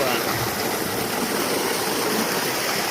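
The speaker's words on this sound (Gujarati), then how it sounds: "આ મોટર ચાલુ કરી છે, પાણી જવા દઈએ હવે પડામાં" Water from a motor pump gushes out loudly and continuously into a field, a dense rushing roar close by.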